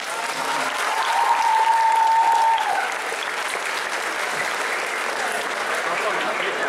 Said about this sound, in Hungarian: Szóval nagy tapsot, Leon!